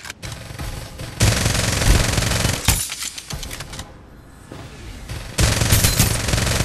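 Gunfire in the battle royale video game Farlight 84: loud, close bursts of rapid automatic fire that stop and start, with a short lull partway through.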